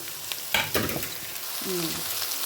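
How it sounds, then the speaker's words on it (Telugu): Chopped bottle gourd pieces and onions fry in a hot pan, giving a short, moderately loud sizzle with a couple of stirring bursts and no talk. "ఇప్పుడు మనం చిన్నగా కోసి పెట్టుకున్నాం కదా సొరకాయ ముక్కలను కూడా వేసేసి మగ్గనిచ్చుకోవాలి"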